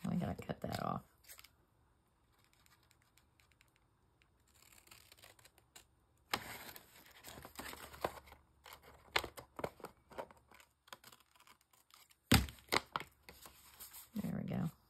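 Scissors snip and rustle through paper for a junk journal, bursts of cutting and handling noise separated by quieter stretches, close up with a voice talking at the start and end.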